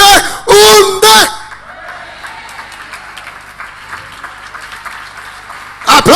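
Church congregation applauds during a sermon, with soft, scattered clapping in the background between loud shouted passages from a preacher at the start and the end.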